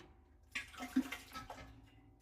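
Water splashes and gurgles as it is poured into a pressure canner for canning, a short, faint burst of pouring that rises and fades within about a second.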